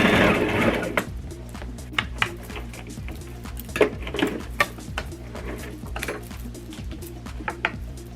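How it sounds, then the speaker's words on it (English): A sewing machine double-stitches around a welt pocket on a jumpsuit, a rapid close mechanical clatter that runs in short bursts with brief pauses as the fabric is turned. "I'm going to give this a double stitch all the way around the pocket again."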